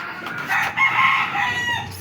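A rooster crows close by, a strained, drawn-out call with no talking over it.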